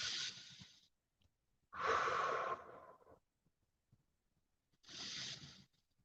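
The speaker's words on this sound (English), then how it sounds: "Deep breaths here." Three deep breaths taken while holding a yoga pose, heard close up as airy, breathy bursts separated by short silences, with no talking.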